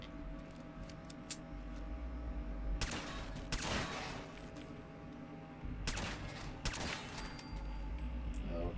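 Gunfire in a wasteland video game, with two clusters of loud, sharp shots fired in rapid bursts over a steady low background hum and no voices.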